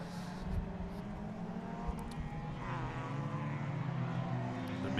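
Mini and Toyota Celica race cars lapping a circuit during a club race, engines droning steadily at moderate distance with a continuous roar that swells slightly as they pass.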